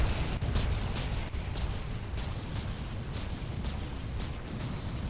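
Heavy naval guns firing in the warship combat game From the Depths, a dense continuous roar of blasts and low rumble with scattered bright cracks, loud and sustained with no talk.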